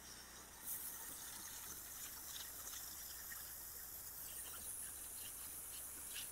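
A pressure washer sprays water steadily across house siding and the roof overhang, making a continuous close hiss with bright spattering on the surface throughout, alone with no talk.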